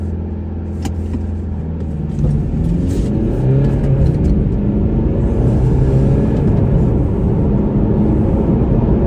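A BMW F30 320d xDrive diesel roars up from a low idle into a hard launch in sport mode, a loud, rising drone heard from inside the car, with no one speaking.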